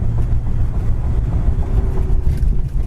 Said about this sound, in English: Transmission kickdown works excellent.